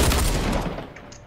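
Gunfire and an explosion in the Fortnite video game land as a loud, dense blast that fades away over about a second.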